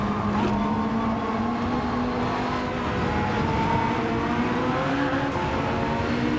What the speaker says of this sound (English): We're running the Porsche 963